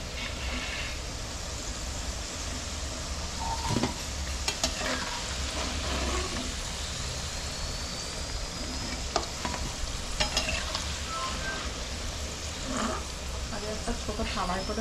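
Close, continuous hiss and crackle of food deep-frying in a pan until crisp, with occasional clinks of stirring and faint voices in the background.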